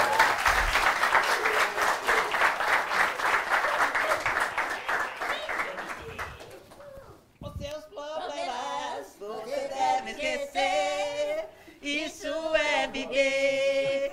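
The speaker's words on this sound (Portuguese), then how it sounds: "Show! Muito bem! Palmas aí," Studio audience applause on a TV variety show rings out as a dense clatter for several seconds, then fades as musical voices and singing take over.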